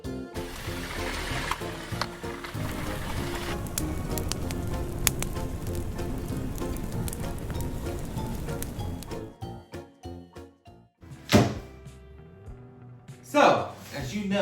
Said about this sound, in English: since I got rained out today and it's just getting worse out